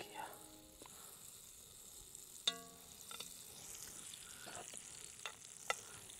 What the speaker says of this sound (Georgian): ხახვის მოთუშვა კარაქში